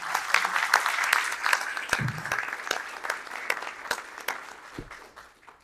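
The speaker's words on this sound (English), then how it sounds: "Let's give them a round of applause for coming out today." An audience at a candidate forum in Blowing Rock applauds, a dense, steady wash of clapping that fades gradually toward the end, with no speech over it.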